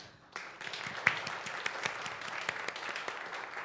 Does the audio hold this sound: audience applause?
yes